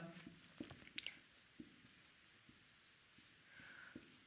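A hand writes a physics formula on a classroom board during a lesson on the mole concept, with a series of soft, short strokes and taps at a quiet level and no one speaking.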